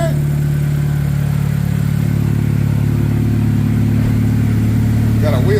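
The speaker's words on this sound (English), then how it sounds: "listen to this thing, and you can literally hear the turbo out the exhaust" A turbocharged Chevy Cobalt SS with an Ecotec engine, newly installed, idles steadily and loudly up close, a deep continuous drone with a faint whistle near the end.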